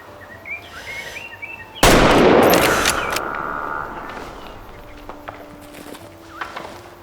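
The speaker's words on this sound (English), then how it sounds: "That looks like it was a good shot." A single loud rifle shot in the hunting video game Way of the Hunter, a sharp blast followed by a long fading echo and rumble, with faint ambient game sounds before and after.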